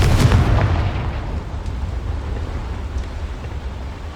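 A Confringo spell explosion in the game Hogwarts Legacy gives a loud, deep boom that bursts at once and rolls off into a long rumbling decay.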